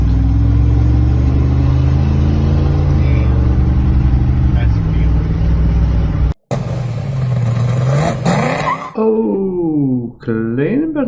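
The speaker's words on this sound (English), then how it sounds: "Oh, clean burnout on this Camaro, wow." A Chevrolet Camaro classic muscle car does a burnout at a street machine event, its engine droning loud and steady, then cutting out briefly before revving in rising and falling sweeps.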